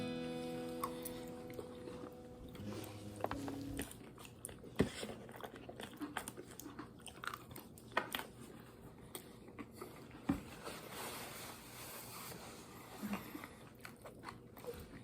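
Bites and chewing of a serrano sauteed onion omelette with queso, close and fairly quiet, with soft crunchy mouth noises spread irregularly across the stretch and no talking.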